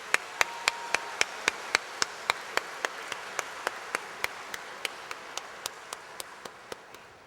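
At a university commencement ceremony, sharp, evenly spaced claps sound about three times a second in a steady rhythm, close and distinct above a faint background murmur, with no speech.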